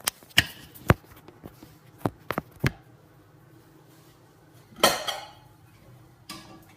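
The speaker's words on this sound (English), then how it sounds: "Just going to dish it all up" Sausage casserole dished up from a pot, with a string of sharp metallic clinks and taps of a spoon on the pot and plates, sparse and close, among quiet pauses.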